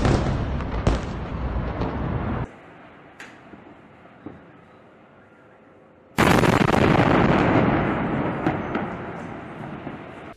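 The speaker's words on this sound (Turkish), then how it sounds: "İsrail jetleri çok sayıda hedefi vurdu." Israeli jet strikes hit Gaza with heavy, roaring explosions: a loud rumbling blast fades, a quieter stretch follows, then a second powerful detonation erupts and rolls on.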